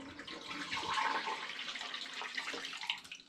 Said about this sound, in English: I've got 22 litres to get into 5 demijohns, which involves me transferring with a jug repetitively